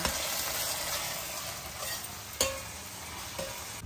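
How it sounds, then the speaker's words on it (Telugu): Ginger garlic paste frying in a pan for a prawn curry, an even steady sizzle with a couple of sharp scraping stirs standing out, close and continuous. "అల్లం వెల్లుల్లిపాయ పేస్ట్ బాగా వేగిపోయిందండి, పచ్చి వాసన అంతా పోయింది"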